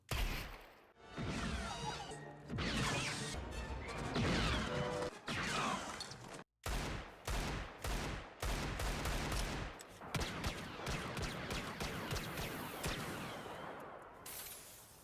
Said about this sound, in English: replacing the Desert Eagle with the famous Blastech DL44. It's one of the most powerful blasters in the galaxy.